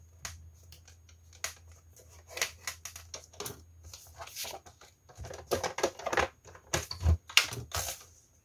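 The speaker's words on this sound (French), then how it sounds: "Je coupe 1 cm après le pli et je biseaute." Scissors snip and crunch through paper in quick, uneven bursts at close range, with rustling between the cuts.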